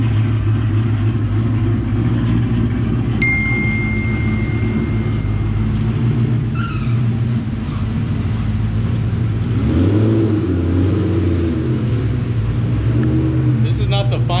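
A cammed 2004 Ford Mustang Mach 1 running E85 idles with a loping rumble on a dyno and then revs up, loud and close, with a voice speaking over it.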